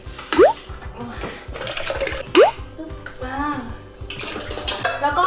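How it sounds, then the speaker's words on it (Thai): Milk and water poured into a container for mushroom cream soup, a steady liquid splash with small drips and plops while someone talks throughout. "เราก็จะมาผสม นมน้ำแล้วก็แป้งนะคะ ใส่ลงในกระบอกแบบนี้นะคะ"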